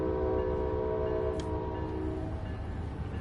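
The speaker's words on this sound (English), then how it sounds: "And the train is actually slowing itself down a little bit here." A train rolls along with a steady, close, heavy rumble and a sustained tonal hum, broken by one brief sharp high burst partway through, with no voices.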